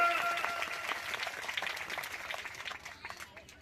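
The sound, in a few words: crowd applause for the MLA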